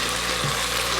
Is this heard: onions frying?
yes